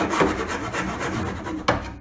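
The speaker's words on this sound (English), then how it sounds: "I want to roughen up these edges, round these edges over, and use a bastard file." A bastard file rasps along the edges of a wooden Sheraton chest of drawers, a close, steady scraping stroke with a sharper scrape near the end.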